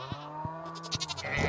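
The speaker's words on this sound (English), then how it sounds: "Oh, little sheepies." Sheep in Stardew Valley bleat in a quick run of short, close calls, several soft pulses followed by a brighter wavering bleat, with no voices.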